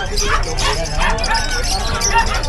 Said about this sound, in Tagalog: Bloomer natin na Pomeranian